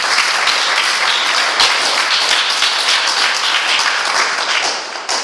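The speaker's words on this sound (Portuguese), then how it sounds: "Então aplauda a Senhora" A church congregation claps in a loud, dense burst of applause, with scattered distinct hand claps standing out from the crowd, holding steady for about five seconds before easing slightly.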